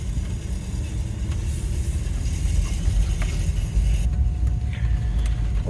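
A 1987 VW Syncro Bus Adventurer Wagon drives down a road on a test drive, its engine giving a steady, loud, close rumbling drone with road noise and no talking.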